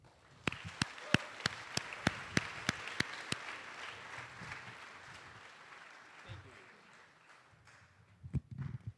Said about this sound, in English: Don't let the applause die before I get to the stage